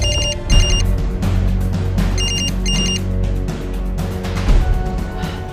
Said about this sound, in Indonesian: Aku pinjam HP Papa. Aku telepon Rangga.